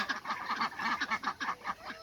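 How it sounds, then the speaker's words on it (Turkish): Farm ducks quack in a rapid, nasal series, near and fairly loud, with several calls running close together. "Ördeklerimiz bunlar arkadaşlar."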